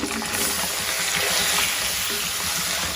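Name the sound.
beef frying with garlic ginger paste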